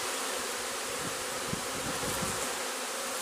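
A swarm of honeybees buzzes steadily around a tree during swarm collection, a dense continuous hum close by with no talk.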